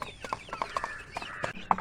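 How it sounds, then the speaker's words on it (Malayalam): Young Aseel chicken chicks cluck and peep in quick, uneven bursts while pecking at their feed, close by and moderately loud, with no one speaking. "ഇത് നമ്മൾ അസീൽ കോയിക്കുഞ്ഞുങ്ങളാണ് കുഞ്ഞുങ്ങളാണ് അവരും നന്നായി കഴിക്കുന്നുണ്ട്"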